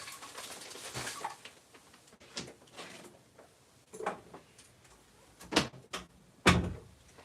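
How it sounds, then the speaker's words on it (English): A door is shut indoors, giving a series of scattered knocks and thumps that grow louder toward a final solid bang against a quiet room background. "I gotta shut my door"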